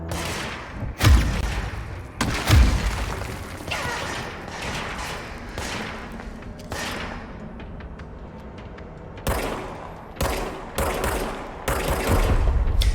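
Bursts of gunfire in the video game Control, several sharp shots and short volleys spread across the stretch, loud and close over a steady background din.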